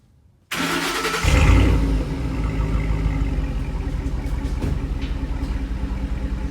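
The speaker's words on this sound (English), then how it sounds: "We're gonna see what it sounds like coming straight out of the muffler first." Ford V8 Raptor exhaust with the tailpipe removed, firing straight out of a Corsa muffler: the engine catches at start, swells into a loud rev, then settles into a steady, deep rumbling idle close by.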